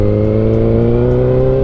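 A motorcycle engine revs in a steady, loud, close drone with its pitch slowly climbing as it lifts into a wheelie.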